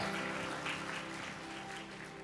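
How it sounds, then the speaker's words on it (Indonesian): A church congregation claps for God during a sermon, a soft, continuous wash of applause that thins slightly toward the end over a faint steady musical hum. "Berikan tepuk tangan untuk Tuhan."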